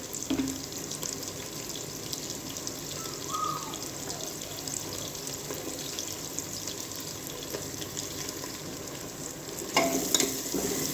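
Onions fry toward golden brown in a pan, giving a steady, fairly faint sizzle with light stirring throughout and a brief cluster of louder clinks near the end.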